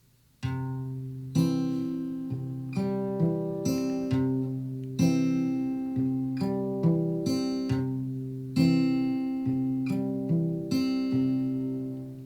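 Acoustic guitar fingerpicking in a steady repeating pattern of plucked notes, close and clear, with no voices.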